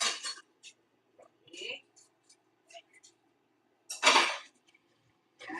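Used dishes and plates clink and clatter in scattered, light knocks and scrapes after a Middle Eastern pasta meal, with a louder rattle near the end and brief speech mixed in.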